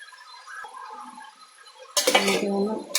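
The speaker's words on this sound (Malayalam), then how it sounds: "ഇനി നമുക്കിതൊന്ന് ഒന്നുകൂടെ ഒന്ന് ഇളക്കണം" Aviyal being stirred in a pot, a quiet start, then at about two seconds a burst of metallic clatter and scraping of a spoon against the pot, close and short.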